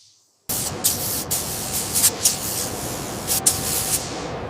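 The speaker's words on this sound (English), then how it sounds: "Starting the spray now." Paint spray gun hissing onto the beam of a huge bucket wheel excavator, a steady broadband hiss starting abruptly after a brief silence with short pulses and gaps in the flow.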